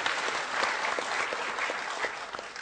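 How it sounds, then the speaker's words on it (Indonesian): A gathered audience claps together in a steady, moderately distant wash of applause that holds evenly throughout, with no talking over it. "Tepuk tangan semuanya, tepuk tangan"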